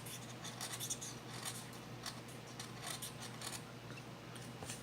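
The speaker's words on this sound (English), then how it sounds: "And I kind of cut into it a little bit there. I think I'm going to stop using the knife." A knife carving the wood of a handmade Native American flute, giving close, quiet, repeated scraping strokes in an irregular rhythm against a steady low hum.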